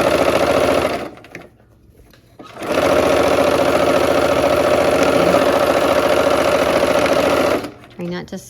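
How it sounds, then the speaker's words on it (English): Sewing machine stitching down a quilt block section, running loud and steady for several seconds with a brief pause, then restarting and stopping; a voice talks over part of it. "I'm gonna sew this"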